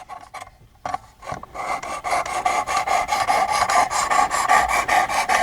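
A knife is honed on the 600 grit side of a sharpening stone: a few light taps and scrapes give way to a continuous, rhythmic series of close, gritty back-and-forth strokes, with no speech.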